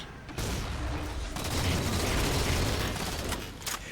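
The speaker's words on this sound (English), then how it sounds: "this guy's gonna do explosions" Explosions and gunfire roar from Halo: The Master Chief Collection multiplayer, a dense sustained barrage of blasts and shots that swells loud and stays constant across the whole stretch, with no voices over it.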